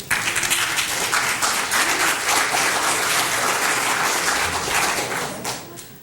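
An audience breaks into sustained applause at a Boynton Beach city commission meeting, a dense wash of clapping that holds steady for several seconds before tapering off slightly at the end.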